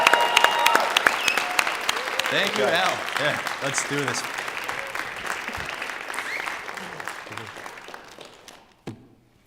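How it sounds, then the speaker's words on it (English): Audience applause fills a theater, the Pantages Playhouse in Winnipeg, steady dense clapping from a crowd that thins toward the end as someone speaks briefly over it. "Big round of applause for Al Ray."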